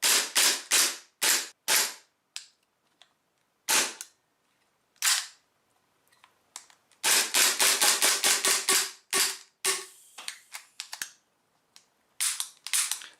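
Gas airsoft pistol, a USP 45 Match, firing indoors in a small closed room: sharp close cracks, first singly in slow succession, then a rapid string of shots, with short gaps and quieter mechanical clicks between.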